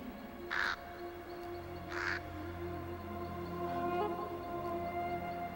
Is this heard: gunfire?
no